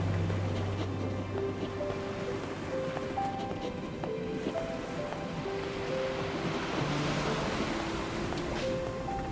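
A ship plows through turbulent ocean waves in NieR Re[in]carnation, with a steady wash of surf and wind under soft sustained musical tones, constant and fairly quiet throughout.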